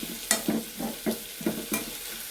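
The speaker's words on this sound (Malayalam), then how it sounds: "നമ്മുടെ തേങ്ങയൊക്കെ ഏകദേശം വറുത്ത് വന്നിട്ടുണ്ട്." Grated coconut roasts in a pan and is stirred by hand. Soft, rhythmic scraping strokes come about twice a second over a faint, continuous sizzle, close and alone.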